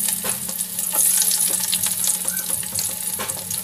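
Garlic fries in a pan with a loud, steady sizzle and crackle, accompanied by occasional stirring scrapes and no talking.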